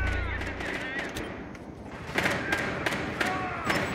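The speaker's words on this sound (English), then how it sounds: "Yeah, they're shooting from the hatch." Gunfire from a hatch in Rainbow Six Siege rings out as a string of sharp, repeated shots with thuds, sparse early then a quicker run of cracks in the second half at moderate loudness.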